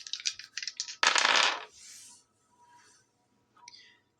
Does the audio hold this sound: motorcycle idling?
no